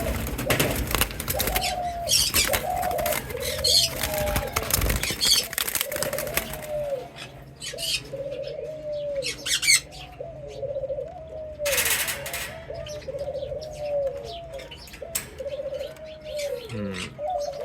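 Red turtle doves in an aviary give repeated soft, rhythmic coos in a steady series, mixed with chirps and occasional wing flaps, at moderate distance against a faint background.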